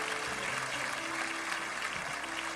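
Church congregation applauding the Lord during a Portuguese-language worship service, a steady wash of clapping filling the room under a sustained musical drone.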